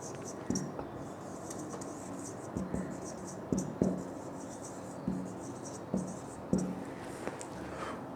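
Pen scratching on paper while ratios are written out by hand, quiet and close, with short strokes and taps at irregular intervals.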